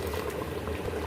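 Hot water poured into a pot of achar gosht after the meat has been fried for several minutes, giving a steady close bubbling and sloshing hiss with no talk.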